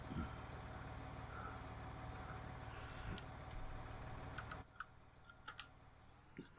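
An engine in the Family Farm farming game idles with a low, steady drone and faint ticking that drops off partway through, leaving scattered small clicks.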